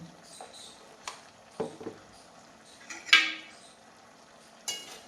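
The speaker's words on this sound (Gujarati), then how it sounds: "સારી રીતે હલાવી દો બધું જ" Fenugreek, pea and potato curry with chilli, turmeric, coriander-cumin and salt is stirred in a pan, with sparse, close scrapes and light clinks of a spoon against the pan between quiet gaps.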